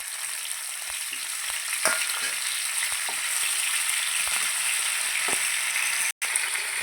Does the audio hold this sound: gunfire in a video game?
no